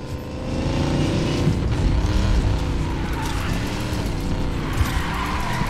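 A car accelerating and drifting in Need For Speed Payback, a loud engine roar rising and falling in pitch with tyre squeal through the slide, close and continuous.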